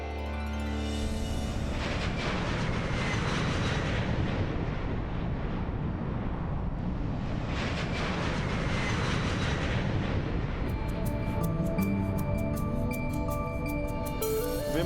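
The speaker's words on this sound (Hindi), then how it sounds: "विमान अब टेक ऑफ कर चुका है।" A loud, dense roar of an airplane taking off builds and surges with broadband rumble and swelling whine, continuous throughout, with faint tonal music entering near the end.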